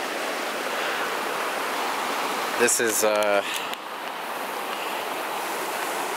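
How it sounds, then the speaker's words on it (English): A river flows past the spot where its bridge washed out, a steady broadband rushing heard throughout, with someone briefly speaking over it midway. "again, a river"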